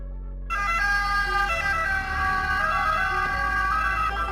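Italian ambulance siren sounding close and loud, kicking in sharply after a half-second of quieter rumble, then holding a steady two-tone electronic wail over low road and engine hum.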